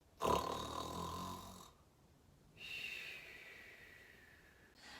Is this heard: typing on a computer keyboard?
no